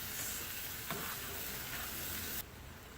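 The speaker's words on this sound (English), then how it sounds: "we're just going to stir this until it is nice and tender" Jalapeno crab dip ingredients being stirred in a pan, a steady soft sizzle with scraping strokes that cuts off abruptly near the end, no talking.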